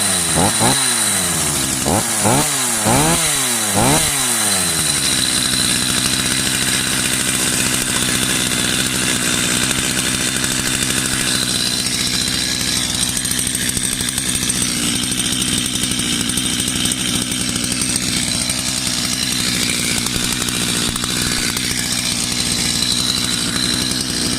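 A Stihl MS 230 or Holzfforma G255 chainsaw revs sharply a few times, then settles into a loud, continuous buzzing drone that runs steadily throughout.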